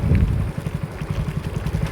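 A motorcycle running out of fuel on a hill sputters and dies, its engine pulsing in uneven low chugs that fade and falter over a couple of seconds.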